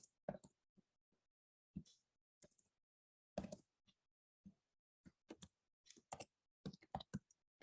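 Computer keyboard keys tapped up close in short irregular clusters of clicks with silent gaps between, crisp and quiet, as login credentials are typed.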